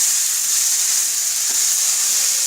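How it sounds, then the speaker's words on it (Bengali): Lentils and greens fry in a wok while being stirred, a loud, continuous close-up hiss of sizzling oil with no pauses or talk. "দেখুন এটা নাড়তে নাড়তে আস্তে আস্তে এটা কড়াই থেকে উঠে আসছে।"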